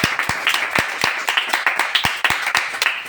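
A small bookstore audience applauds the presenter at a book presentation, a few close, distinct claps over a steady patter lasting a few seconds.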